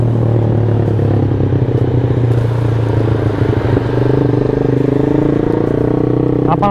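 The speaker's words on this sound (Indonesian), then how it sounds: "menikmati suara motor gue." Yamaha Jupiter MX motorcycle engine running steadily while riding, a loud, close, continuous buzzing drone with a slight shift in pitch partway through.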